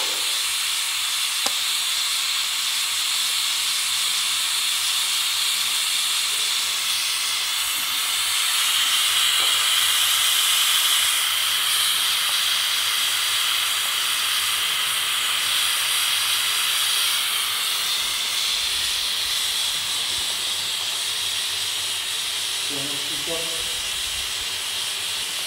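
Autoclave running in a microbiology lab, giving a constant loud hiss of steam that swells briefly midway. A few faint clicks and knocks sit under it.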